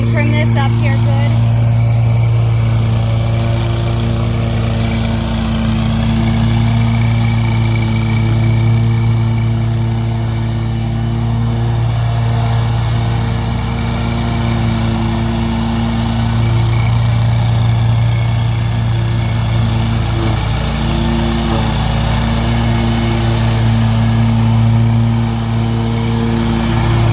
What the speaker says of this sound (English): Get the trimmer out and trim this up here good.